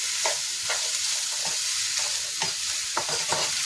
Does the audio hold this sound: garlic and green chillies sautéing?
yes